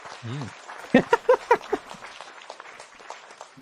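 A brief burst of clapping, about five sharp claps in a quick run, preceded by a short voice and followed by quieter murmuring.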